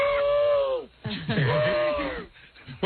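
A person imitates a parrot with a series of loud, strained, squawking vocal cries on a radio talk show, with short pauses between bursts.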